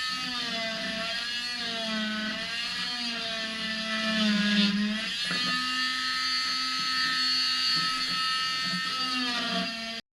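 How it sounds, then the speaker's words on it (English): Oscillating multi-tool fitted with a scraper blade strips old material from a boat, giving a steady, loud buzzing whine with a slight pitch shift midway, running continuously and alone. "This multi-tool with a scraper in order to get all this stuff off."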